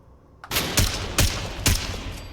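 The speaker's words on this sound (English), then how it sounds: "Two shots in the head." Gunfire from a modded AUG rifle in the Fallout 4 video game: three sharp, loud shots in quick succession over a steady bed of game ambience, with no talk.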